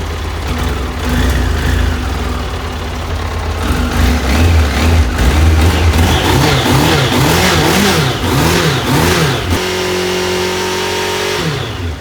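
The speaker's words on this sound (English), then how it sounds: "on that startup on the choke, it wasn't firing on number 3" A Triumph Daytona T300 motorcycle engine cold-starts on choke while misfiring on one cylinder. It runs loud and close with a rough, uneven idle, and the revs rise and fall in repeated blips before settling at a higher, steadier note.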